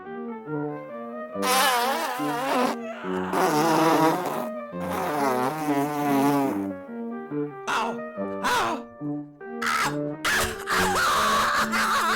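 A swarm of angry cartoon bees buzzes in loud, wavering bursts that rise and fall, broken by short gaps and choppy pulses toward the end.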